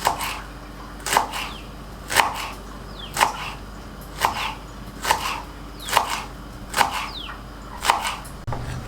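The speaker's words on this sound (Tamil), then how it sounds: "இதுவும் நல்லா மெலிசாக கட் பண்ணிங்கன்னா" Knife chopping vegetables on a cutting board for vegetable fried rice, about nine sharp evenly spaced thuds roughly once a second, close and clear, no talking.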